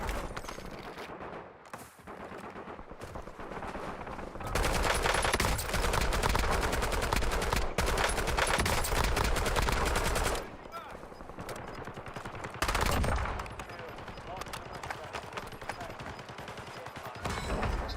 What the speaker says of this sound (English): There's a guy in the bridge shooting at us.